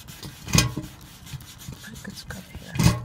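A pot is scrubbed in a van, with rough, close rubbing and scraping strokes and two louder knocks at the start and the end.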